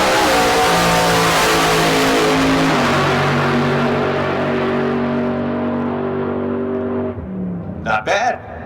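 A 1951 pickup truck drag racing down the left lane at a street car drag event roars loudly at first, then its engine drone recedes into the distance, with a brief voice near the end.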